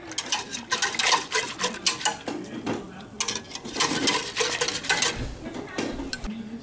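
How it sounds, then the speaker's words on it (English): A utensil stirs a homemade fabric softener mixture of hair conditioner heating in a pot on the stove, giving a steady run of scraping and clinking against the pot, fairly close and continuous with irregular rhythm. "And you're gonna stir until all of the conditioner is incorporated."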